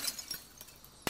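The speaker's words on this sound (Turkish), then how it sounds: "Pencereyi kır." A window smashed in the zombie survival game Project Zomboid: one sharp, bright glass-breaking crash near the end, after a few faint clinks, with no talk.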